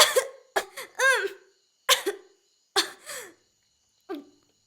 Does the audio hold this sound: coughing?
yes